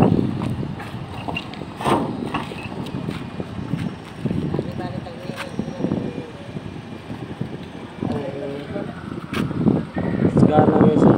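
Wind and rain outdoors, with gusty rumbling buffets against the microphone and a broad hiss rising and falling, while voices talk intermittently over it.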